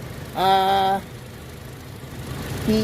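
Steady low idle of a Toyota Kijang Innova 2016 2.0-litre four-cylinder engine, heard up close under an open hood, with a brief voice sounding over the even running.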